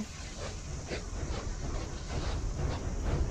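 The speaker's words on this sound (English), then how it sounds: "I'm driving a train." A train runs in a video game, giving a continuous rumbling, hissing rail noise with faint rhythmic clatter. It holds steady and fairly loud throughout, with no talking.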